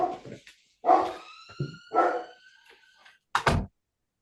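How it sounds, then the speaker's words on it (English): A pet dog barking close by indoors: several sharp, loud barks in an uneven sequence, with short gaps between them and a final pair of quick barks near the end, and no speech. "Sorry, my dog's barking."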